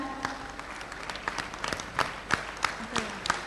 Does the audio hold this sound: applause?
yes